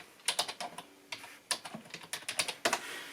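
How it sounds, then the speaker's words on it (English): Fingers type on a computer keyboard in quick, irregular bursts of close, crisp keystrokes, with short pauses between runs and no talking. "So I'm going to type in"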